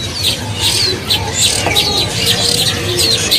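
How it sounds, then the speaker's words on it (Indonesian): A white-breasted magpie-robin (kacer) at an Indonesian bird market sings bright, repeated chirping phrases, fairly near, with a background hum and faint voices. "Kacer dada putih ini ya."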